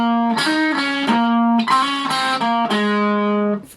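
A distorted electric guitar plays a short riff, sustained, gritty notes with a brief pause between phrases, heard alone and up close.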